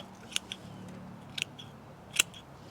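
Scissors snipping roots off dahlia tubers, several sharp, separate clicks spread across the clip over a quiet background, the last cut the loudest.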